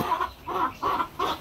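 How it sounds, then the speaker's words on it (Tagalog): A chicken clucks loudly and close by in a home backyard, four evenly spaced clucks in quick succession with no voices over them. "Ang ingay ng manok namin."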